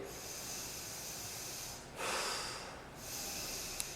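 A deep breath drawn in during a mid and upper back stretching exercise, a steady airy hiss that swells briefly louder before settling again, close and alone.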